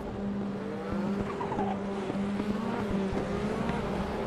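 A Nissan R90CK Group C race car with a twin-turbo 3.5-litre V8 screams steadily in the RaceRoom racing game, its loud engine note rising and falling with gear changes, with occasional tyre squeal.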